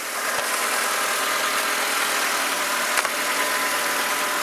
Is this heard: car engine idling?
yes